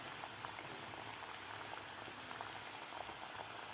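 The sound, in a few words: frying wheat flour and jaggery kapnya until golden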